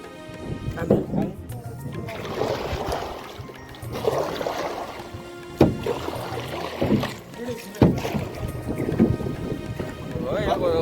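A boat moving through water, with sloshing and rushing water and wind buffeting the microphone, while people talk intermittently over it.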